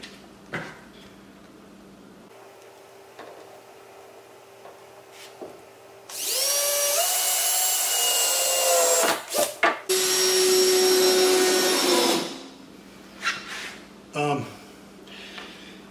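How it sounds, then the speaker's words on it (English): Deck screws are driven into salvaged wood with a power drill for a tractor carry-all build: a loud whirring motor runs for about six seconds, rising in pitch, with short bursts after it and quiet handling noise before and after. "So I'll just put two deck screws all the way down"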